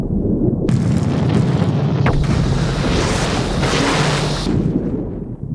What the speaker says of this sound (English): a major explosion in the torpedo room